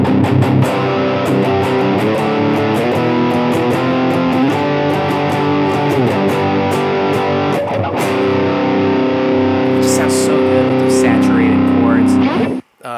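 Electric guitar driven through a Boss DS-1 distortion pedal, playing sustained, dense, saturated chords and notes continuously and loudly for about twelve seconds before cutting off abruptly at the end.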